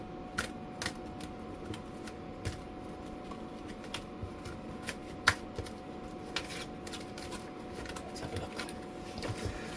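Tarot cards being shuffled by hand, a quiet run of crisp, irregular flicks and snaps close to the microphone over a soft background hiss, with no talking.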